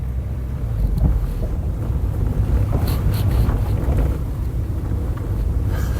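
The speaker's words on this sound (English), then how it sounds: "So just go for a little spin with the roof down." A Peugeot 206 CC convertible drives with its roof down along a dusty road, giving a steady low engine and road rumble under heavy buffeting wind noise throughout, with no talking.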